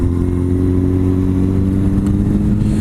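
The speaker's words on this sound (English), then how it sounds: "now what I'll do here, I'll just downshift, I'm not braking" Motorcycle engine downshifting without braking ahead of a corner, heard loud and close as a steady throaty drone with shifting engine tones throughout.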